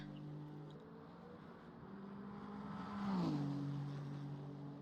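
The Ferrari number 50 race car in a racing game at the Bahrain GP, its engine a steady, fairly faint drone that swells briefly as it climbs and shifts pitch before settling back.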